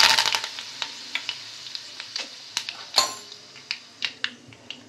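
Curry leaves and mustard seeds sizzle and crackle in hot oil for a tempering, with sharp scattered pops over a soft frying hiss, loudest at first and then settling into irregular crackles.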